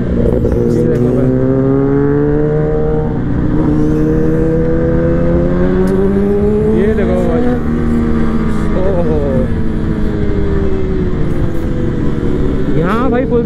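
Kawasaki ZX10R motorcycle engine revving loudly and steadily on a street, with harmonic engine tones rising and falling throughout and popping crackle from the exhaust, close and dominant, with a voice talking over it.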